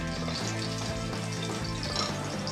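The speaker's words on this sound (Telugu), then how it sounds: "అలాగే బిర్యానీ ఆకులు వేసుకొని వేయించుకుందాం." Cinnamon, cloves, cardamom, peppercorns and bay leaves fry in hot oil for a soya chunks pulao. They give a steady, soft sizzle that stays even throughout, with a faint low hum underneath and no talking.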